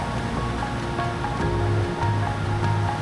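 Mountain river rushing below a glacier near Mestia in the Caucasus, a steady broadband roar of water with a low rumble, continuous and even throughout.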